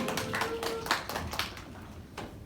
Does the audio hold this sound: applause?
yes